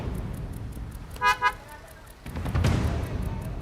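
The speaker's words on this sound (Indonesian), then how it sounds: "di klakson nih, jalanan macet." A car horn gives two short honks in a traffic jam, standing out over a steady low rumble of road traffic, with engine noise swelling afterward.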